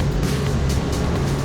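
A Mercury V6 four-stroke outboard motor (twin 200 hp) roars steadily at close range as the boat accelerates, a constant loud drone with rushing water noise and no pauses.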